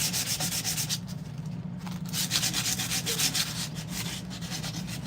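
Continuous rhythmic scraping and sanding as old finish is stripped from a wooden sheath, with close repeated strokes at an even pace and no talking.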